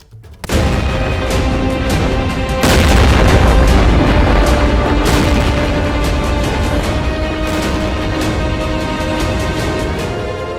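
Heavy explosions from bombs dropped in Israeli strikes on the Gaza Strip, a sudden loud blast followed by a second bigger one, then a sustained rumbling roar with repeated crackling bursts close by.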